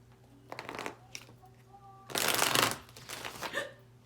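A deck of tarot cards being shuffled close by, with several quick papery riffling bursts and one longer, louder flurry in the middle, separated by quiet pauses.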